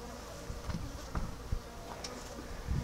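Honeybees buzz around a removed hive, a continuous low droning hum with occasional nearer passes and light bumps, fairly quiet.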